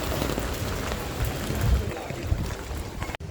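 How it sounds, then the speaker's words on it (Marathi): Rain falls steadily outside, a dense close hiss of drops pattering on surfaces that continues without a break through the whole stretch, with an umbrella out in the wet. "बाहेर पाऊस पण चालू आहे"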